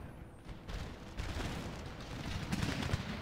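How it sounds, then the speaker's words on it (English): Massed artillery and musket fire from an Empire: Total War (Darthmod) Seven Years' War battle, a dense continuous rumble of shots with a few sharper cracks near the end, no talk. "we're getting our first few shots off"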